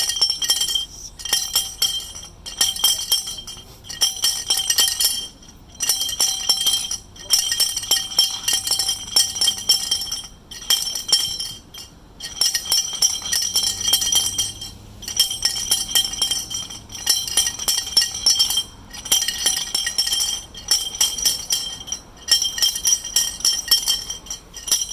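Glass being flintknapped, with a steady run of sharp, bright clinks and chipping taps repeating in quick bursts with short pauses between, close and loud, no talking.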